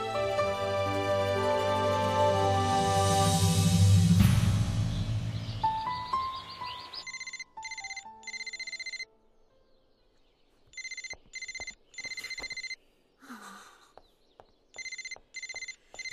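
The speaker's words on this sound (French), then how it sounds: "Tu ne comptes pas décrocher ton fichu portable?" A mobile phone ringtone chimes in repeated bursts with short pauses between them, clear and moderately loud, after louder music fades out at the start.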